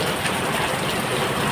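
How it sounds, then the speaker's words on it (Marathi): Continuous heavy rain falls across Jalna city in the afternoon, a broad, unbroken wash of drops on surfaces, constant in level and free of speech. "दुपारी 12:15ला जोरदार पावसाचे आगमन. एकसारखी संततधार वाहत आहे"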